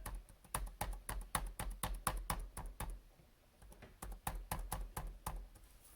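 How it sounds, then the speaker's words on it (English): Close, rapid clicking of an ASUS Vivobook S14 laptop keyboard being typed on, with a loose rattle on each keystroke and a brief pause midway. "The whole thing rattles when you type on it"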